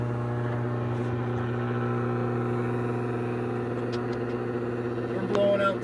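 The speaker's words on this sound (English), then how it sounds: "Oh, their old transformer's going." An old electrical transformer powering a metal melter hums steadily and loudly as it fails and burns out, a dense continuous drone with a brief swell near the end and no clear speech.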